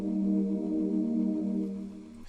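A sustained default synth pad preset named Massive Pad holds a steady, warm chord for about two seconds at a moderate level, heard alone before it cuts off.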